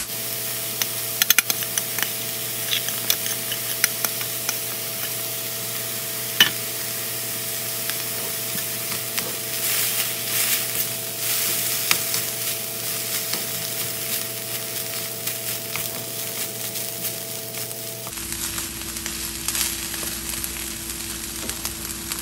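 Quinoa stir-fried in a pan gives a steady, close, loud sizzle with crackling bursts and occasional spatula scrapes, continuing unbroken before the tone shifts slightly near the end, with no talking.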